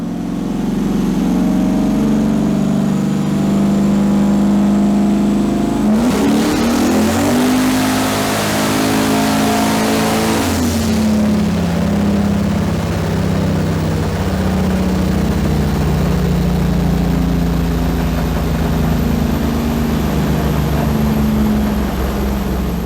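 A turbocharged engine in a Sunbird revs hard on a dyno, a loud continuous drone that climbs sharply midway, holds a strained peak for several seconds, then drops back to a steady roar.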